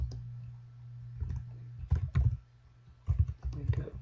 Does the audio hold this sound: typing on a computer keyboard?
yes